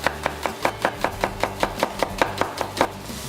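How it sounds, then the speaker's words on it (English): Knife slicing a red onion finely on a chopping board, giving a steady run of about fifteen crisp, evenly spaced cuts, close and clear with no talking. "Just going to slice those that way quite fine. And the same with the red onion there."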